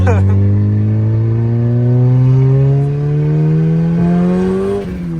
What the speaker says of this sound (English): First time out and it's already hit boost cut